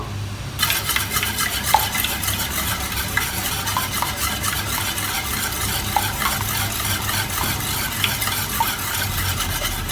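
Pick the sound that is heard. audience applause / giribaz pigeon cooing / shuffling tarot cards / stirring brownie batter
stirring brownie batter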